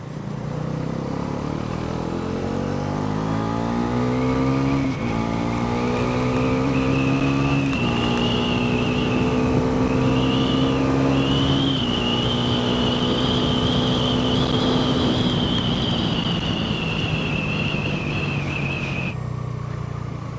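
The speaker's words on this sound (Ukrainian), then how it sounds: "мотоцикл гарно їде як на низьких обертах на на підвищенні передачі" Bajaj Pulsar NS400 motorcycle riding under steady acceleration, its engine droning loud and close with rising revs through several gear changes and no talk over it.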